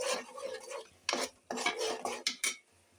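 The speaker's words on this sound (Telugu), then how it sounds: "ఇందులోనే పచ్చిమిరకాయలు కూడా వేసి ఈ మూడింటిని, పచ్చిమిరకాయలు, కరివేపాకు, ఉల్లిపాయ బాగా వేపాలి" Onion paste with green chilies and curry leaves frying in a pan, stirred with a metal spoon in bursts of scraping and clinking, close and fairly loud with brief pauses between strokes.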